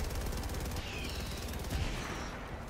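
An automated turret in the video game Helldivers 2 fires rapidly and without pause, a dense, steady stream of gunfire that sounds a little distant, mixed with battle noise.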